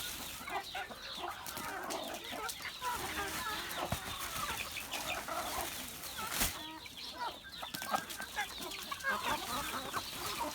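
A flock of chickens being fed cucumber and watermelon rind clucks and chatters continuously at close range, busy overlapping calls with occasional sharper squawks.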